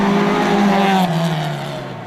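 A Ford Escort rally car engine roars close by on a rally stage, then drops sharply in pitch and fades as it brakes hard, with faint tire noise.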